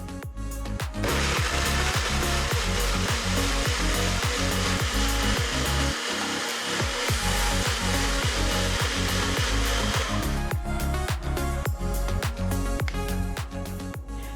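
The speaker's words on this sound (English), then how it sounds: "And we're just going to blend this into a puree." A kitchen blender purees mango for kulfi, a loud, continuous motor whir with churning that dips briefly midway and carries on without talk.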